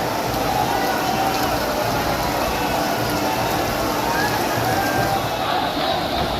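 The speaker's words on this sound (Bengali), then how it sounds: "দেখো কি জোরে বৃষ্টি হচ্ছে" Heavy rain pours down steadily during a crowded Baba Dham pilgrimage yatra, a loud, unbroken hiss of water close by with faint crowd murmur mixed in underneath.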